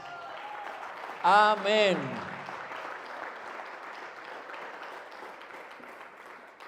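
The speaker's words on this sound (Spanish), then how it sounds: "Palmas." A church congregation claps steadily in a reverberant room; partway through, a voice says a short word over the clapping, and the applause carries on at an even, moderate level afterward.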